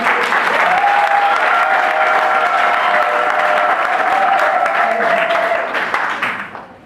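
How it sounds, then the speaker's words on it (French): Guests applaud the bride during an official wedding ceremony in Brazzaville, Congo, with loud sustained clapping from a close crowd. A voice calls out over the clapping before it fades at the end. "Applaudissez pour la fille."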